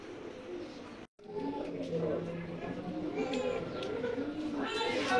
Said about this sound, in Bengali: অনেক বড় সাইজের কবুতর, সবগুলা সারাসারি ব্লাড।